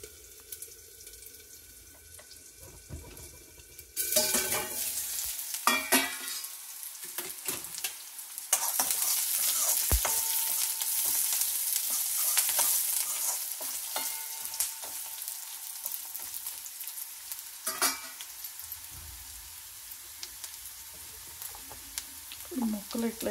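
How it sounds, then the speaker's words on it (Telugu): A bitter gourd and tomato curry sizzles and fries in a pan, with stirring scrapes, a running tap and bursts of frying noise, and a voice speaks now and then. "కాకరకాయలకు టమాటా వేసి వండుకుంటున్నాం అన్నమాట."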